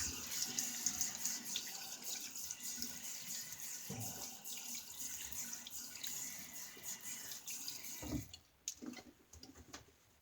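Close, quiet running water from a sink tap while a razor is rinsed, a steady hiss broken by short clinks and splashes, ending in a few louder knocks as the flow stops.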